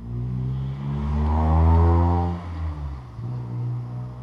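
A Honda ATC 200x three-wheeler engine revs through its exhaust, a deep throaty rise to a peak, then dropping back to a burbling idle, loud and close.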